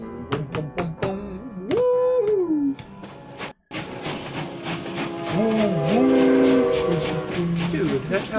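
A train whistle gives rising and falling tonal blasts over a rumbling background with sharp clanks, loud and near, and speech passes over it in places.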